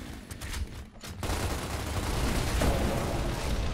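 Gunfire in the video game Gears of War Ultimate Edition, a dense burst of rapid shots and echoing blasts, loud and close, continuing without a break after a brief dip.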